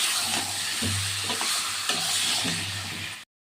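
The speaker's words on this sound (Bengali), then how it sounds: "মশলাটা একটু নেড়ে নিই ভালো করে" A paste of ginger, onion, garlic and green chilli is stirred and fried in a pan, a loud sizzle broken by repeated spoon scrapes and stirring strokes, ending abruptly.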